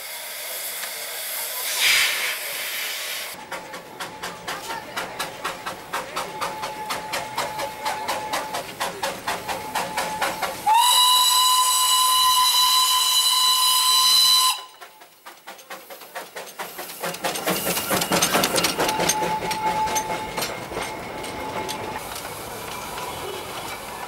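A Darjeeling Himalayan toy steam train stands at the locomotive shed, giving off a loud continuous steam hiss and rhythmic chuffing, with a long steady whistle blast midway before the hissing and puffing resume, close by.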